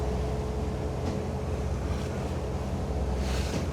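A Riviera 395 SUV motor boat plows through the wake waves of a passing vessel, a loud, constant roar of engine, rushing water and wind buffeting the microphone, with no speech.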